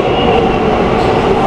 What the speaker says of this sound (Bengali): দেখো এই মেট্রোটা সেক্টর 5-এর দিকে চলে যাচ্ছে